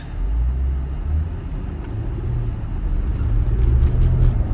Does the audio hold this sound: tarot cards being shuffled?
no